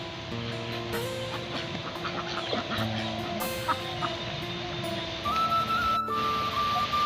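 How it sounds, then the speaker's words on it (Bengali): A flock of ducks wandering together outdoors, with repeated nasal calls overlapping from several birds at moderate distance, over a faint background hum. "এই যে হাঁসগুলো ঘুরে বেড়াচ্ছে একসঙ্গে দল বেঁধে"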